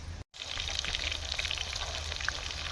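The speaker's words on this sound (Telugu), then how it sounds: "మనమైతే ఉల్లిగడ్డ ఇదేండి ఉల్లిపాయల ముక్కలు, పచ్చిమిర్చి అయితే వేసేసాను" Chopped onions and green chillies fry in hot oil in a kadai while making a fish curry; a steady close sizzle and crackle with scattered pops, after a very brief break at the start.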